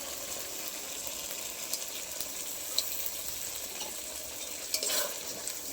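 Spice masala with ground poppy seed paste and a splash of water sautéing in a pan, a soft steady sizzle with a few light stirring scrapes, close and fairly quiet with no voices.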